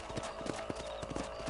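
Horse hooves clip-clop at a steady trotting rhythm on a ranch trail in the Western video game Red Dead Redemption, close and distinct, with no talk over them.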